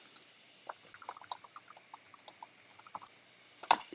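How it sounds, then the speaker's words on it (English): Someone types a question on a computer keyboard, producing a quiet, uneven patter of light key clicks with a louder clack at the end, heard alone in a still room. "I'm going to type a question."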